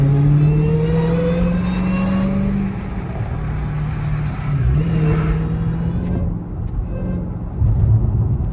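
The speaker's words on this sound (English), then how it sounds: "Y'all heard my damn tires. I ain't getting no traction." A Dodge Hellcat on a back road at night drones loudly and steadily, its engine pitch holding then dipping and rising as the tires spin without traction, a continuous close rumble filling the whole stretch with no talk.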